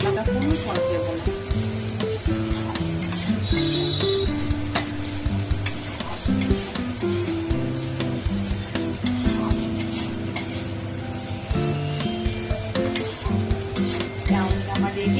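Egg chowmein being stir-fried in a pan, a steady sizzle with frequent scraping and tossing strokes running throughout, under a continuous layer of background music.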